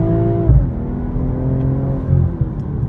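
A 2023 BMW M440i Gran Coupe, rear-wheel drive, with its exhaust flap open, pulls away hard, the engine note dropping as it shifts, then climbing steadily in a strong, sustained rumble heard close from inside the car.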